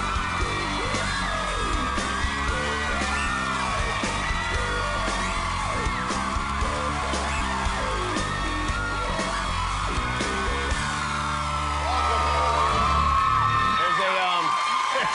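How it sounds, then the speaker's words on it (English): A talk-show studio audience screams and whoops continuously as a guest is welcomed. The crowd noise is loud and dense and swells further near the end. "all the screaming has been very bad for her"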